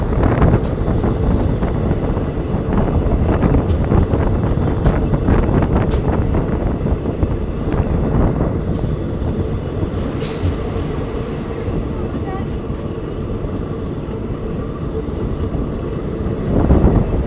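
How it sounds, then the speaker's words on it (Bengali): The Malda–Howrah Intercity Express via Azimganj pulls into Nabadwip Dham station with a loud, steady rumble and rattle of wheels and carriages close up, buffeted by wind noise, with a brighter burst of clatter near the end. "ট্রেন তার এগারোতম হল্ট নবদ্বীপ ধাম স্টেশন এন্টার করছে"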